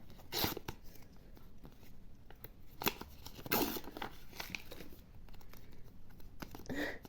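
A paper surprise packet being opened and handled, giving soft, quiet crinkling and rustling with a few sharper crackles, close up and without speech.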